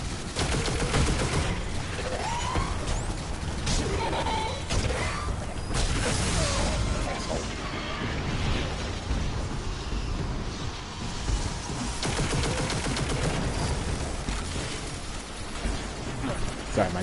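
A precision-frame shotgun fires slugs in Destiny 2 amid a continuous barrage of in-game gunfire and explosions, loud and dense throughout with mechanical clatter layered underneath.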